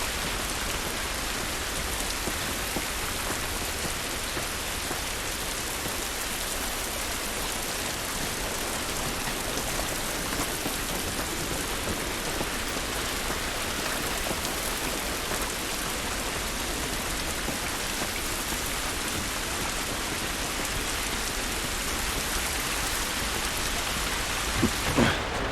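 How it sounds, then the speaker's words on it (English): Steady, dense rain pours down in The Last of Us video game, a constant close hiss of drops on surfaces with distant thunder rumbling beneath, no talk. "This rain ain't gonna do us any good."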